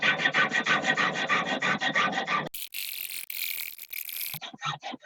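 Jeweler's saw cutting copper sheet on a bench pin, a rapid rhythmic rasping of short back-and-forth strokes for the first half, followed by a brief scrape and a few more strokes, close up.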